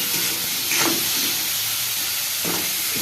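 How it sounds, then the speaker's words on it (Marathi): Capsicum, onion and tomato heating in a hot pan for a homemade pizza topping, giving a steady close hiss and sizzle with a couple of brief louder bursts as the vegetables are moved. "शिमला मिरची आणि टोमॅटो हे गरम करून घेणार आहे."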